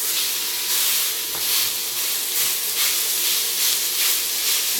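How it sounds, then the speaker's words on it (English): Garlic and meat frying quickly in a pan with salt, a loud, steady sizzling hiss that swells and eases in repeated surges, with no talking. "fry them quickly and put the meat in here"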